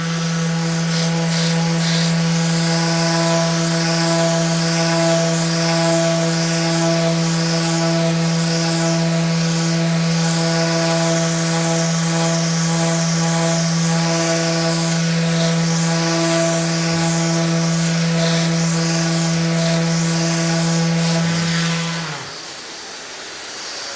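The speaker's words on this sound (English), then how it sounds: "And now with the sander, because I know exactly where the areas are that need to be reworked, we can go over those" A Festool ETS EC 150/3 eccentric sander works a surface, giving a loud, constant motor whine with steady tone for over twenty seconds before it winds down near the end.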